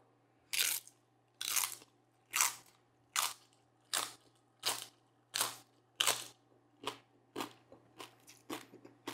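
Crisp skin of roast pig (lechon) gets bitten and chewed up close: about a dozen loud, sharp crunches come in a steady rhythm with short quiet gaps between them. No talking.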